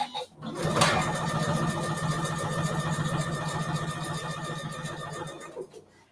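A sewing machine runs steadily, stitching along the edge of a cork nesting bin with a continuous mechanical whir and needle rhythm lasting several seconds, then stops, alone with no talk.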